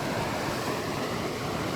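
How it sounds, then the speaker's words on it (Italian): Wind blasts into the microphone beside a collapsing bridge, making a continuous loud roar of buffeting noise that covers everything else. "C'è un po' di vento, scusate"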